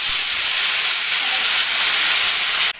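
Boroli fish rubbed with salt and turmeric frying in hot oil, a loud, steady, close sizzling hiss that runs unbroken before cutting off abruptly.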